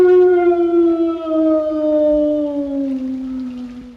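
A long, loud howl from the title figure in the 1960 Twilight Zone episode "The Howling Man", a sustained wavering cry that slowly falls in pitch, heard alone without speech.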